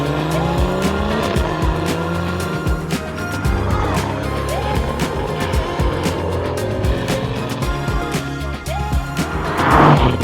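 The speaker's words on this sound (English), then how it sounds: "I'm always listening to that exhaust note" A BMW M140i engine roars and revs loudly up close on the road, its exhaust note rising and falling through gear changes, with a burst of noise at the end.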